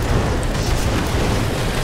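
Loud, dense rumbling blasts from tank shelling in a tank war simulator game, a continuous barrage of booms and explosions filling the whole stretch with no clear gaps.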